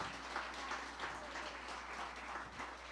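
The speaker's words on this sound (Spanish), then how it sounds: "Muy bien, aplaudamos" Church congregation at a Sunday service applauding after a song, a steady, moderately quiet patter of many hands clapping for a few seconds with no voices.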